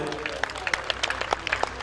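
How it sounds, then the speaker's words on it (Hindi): Audience applause at a 2012 Hindi poetry gathering in Badaun, a brief patter of scattered hand claps over a low room hum, with someone talking through it. "एक बार जोरदार ताली बजाइए"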